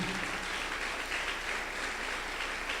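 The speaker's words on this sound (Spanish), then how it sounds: "Dale fuerte el aplauso al Señor." A church congregation applauds during a sermon, giving a dense, continuous wash of many hands clapping together at a steady level throughout.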